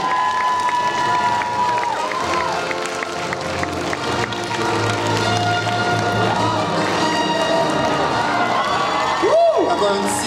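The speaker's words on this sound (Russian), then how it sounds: "Встречаем! Бурные овации!" A crowd at a 2015 awards ceremony cheers and applauds a karaoke contest winner heading to the stage, a dense, steady roar of clapping and shouting with voices mixed in throughout.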